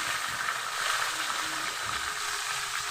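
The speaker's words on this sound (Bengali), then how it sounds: "চলো আলুগুলো আমি লাল লাল করে ভেজে নিই" Thinly sliced potatoes frying in hot oil in a pan give off a dense, continuous hissing sizzle that holds steady at close range throughout.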